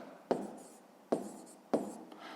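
Pen on paper writing down a math answer, three short scratchy strokes with brief pauses between, close and quiet, no talking.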